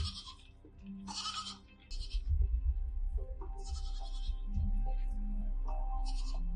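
A goat bleats in a scene from the TV series Severance, episode 'Cold Harbor', with several short, nasal cries spread over a low rumbling background and faint voices.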